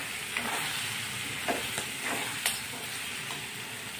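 Cumin powder and turmeric sautéed together in a pan for a Maharashtrian dal dhokli, a low steady hiss of frying with a few faint stirring scrapes, quiet and close, without voices.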